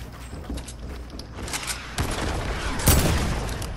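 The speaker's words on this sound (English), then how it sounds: "He's shooting at me too." Gunfire from a Fortnite match in Creative Mode, a steady crackle of shots with a sharper, louder burst near the end, set against constant game noise.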